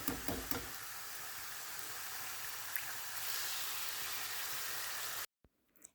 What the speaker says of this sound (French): Je vais rajouter un petit peu d'huile et je vais venir claquer les 2 œufs.